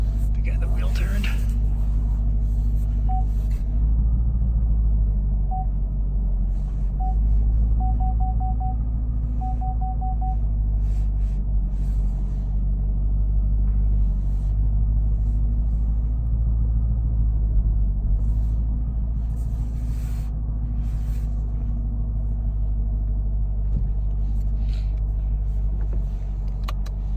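A 2019 Chevrolet Camaro ZL1 rolling in reverse, its engine giving a deep, steady, close rumble that continues throughout, with a few faint beeps and a voice speaking over it now and then.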